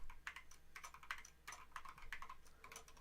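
Rapid, uneven keystrokes on a computer keyboard, close and fairly quiet, tapping out a new password in short bursts with tiny pauses between them.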